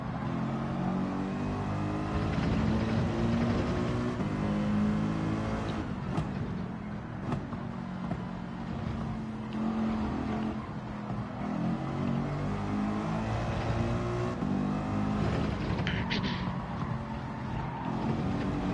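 Race cars in the Gran Turismo 7 video game, an online open lobby with a Lamborghini among them, engines droning and revving steadily, the whine rising and falling throughout with no talking.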